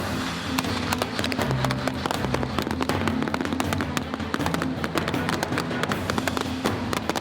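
Blank rounds fired by soldiers during an assault exercise on a church objective, a dense stream of sharp gunshot cracks in rapid irregular bursts, loud and near, over a steady low engine rumble.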